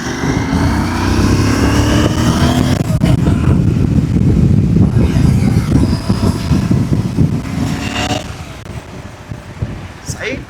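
A Royal Enfield GT 650 motorcycle riding through Bengaluru traffic, a steady loud engine drone with road and wind noise and surrounding traffic rumble, while a rider talks over it.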